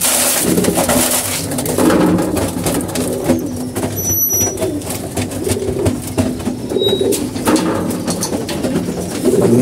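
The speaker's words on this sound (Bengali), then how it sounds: "আমরা এইভাবে করে কবুতরের খাবার দিতেছি" Pigeons coo softly and repeatedly while they are fed, with a few faint chirps over a dense, steady, close background rumble. No one speaks.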